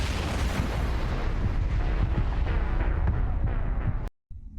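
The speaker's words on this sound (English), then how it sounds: "I got missile to the face." A missile strikes the player in a video game, setting off a loud, roaring blast with a rumbling low end that holds for several seconds before cutting off abruptly.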